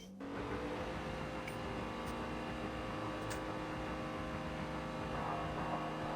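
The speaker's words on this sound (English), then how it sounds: "God, I can hear the car screaming now." Hot hatch race cars line up on the Brands Hatch grid in Forza Motorsport 7. Their engines hold a steady, dense, buzzing drone from just after the start, close and continuous, with no voices.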